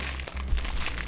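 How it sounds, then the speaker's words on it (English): A bag of chips crinkled and handled while being opened, a brief close burst of plastic crumpling with a low thump midway, short and fairly loud. "struggling with my freaking chips"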